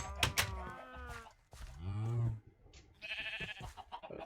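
Sheep in the video game Minecraft bleat several times in quick succession, with clear wavering cries close by, separated by short pauses and a burst of game sound near the end.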